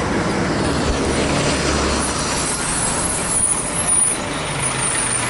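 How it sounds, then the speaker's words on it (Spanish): Trucks pass along a city street in a steady roar of heavy engines and tyres, with a low rumble from a passing vehicle near the start and a brief hiss like an air brake later on. "es la pasadera de camión"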